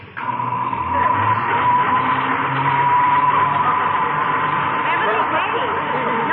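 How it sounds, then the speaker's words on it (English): A noisy elevator in an old radio comedy runs with a steady, loud mechanical rumble and a whining hum, with muffled voices underneath. "The elevator makes so much noise I can't hear you."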